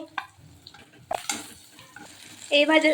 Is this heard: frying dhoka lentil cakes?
yes